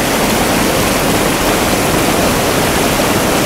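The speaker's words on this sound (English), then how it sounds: "so many different currents, different levels, swirling," A river flows with swirling, churning currents, giving a loud, dense, unbroken rush of water that stays steady and near, with no voices.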